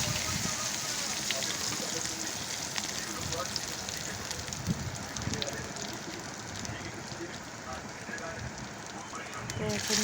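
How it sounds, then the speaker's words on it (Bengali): Garlic paste frying in hot oil in a heated cooking pot, giving a steady, dense crackling sizzle that fills the whole stretch, fairly close and even in loudness. "এখন দিয়ে দিলাম তেল। এখন দিয়ে দেবো রসুন বাটা, সব কিছু উপকরণ দিয়ে দেবো।"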